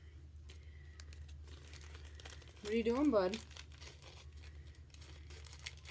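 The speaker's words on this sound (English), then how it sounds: "Now the cat is laying on the plastic bag." A cat lies down on a plastic bag, giving one brief burst of crinkling near the middle of an otherwise quiet room, with a person speaking softly.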